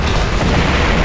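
A loud, dense explosion boom fills a short moment of the Army Men RTS battle, its heavy low rumble sustained throughout with no talk over it.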